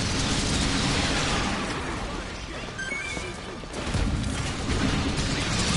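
Video game explosions in Earth Defense Force 5 on PS4 Pro boom and rumble continuously, a dense loud roar of blasts and debris that swells and recedes across the clip.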